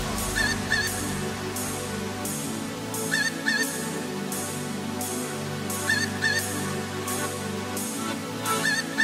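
Poultry in a village on Lombok, with repeated honking, goose-like calls rising over a steady rural background, loud and close in short bursts.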